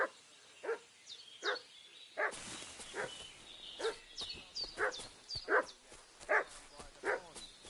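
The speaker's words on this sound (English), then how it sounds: "What's that dog making such a fuss about?" Dog barking in Kingdom Come: Deliverance II, a steady series of sharp, moderately loud barks at regular intervals over game ambience, with birdsong and chirps in the background and no talking.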